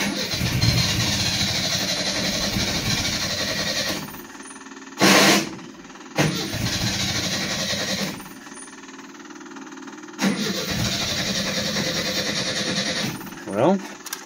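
A 1975 Chevy LUV pickup engine with a carburetor that needs work, cranking and catching several times after years sitting, each run a rough, loud, close idle, broken by pauses and a clang.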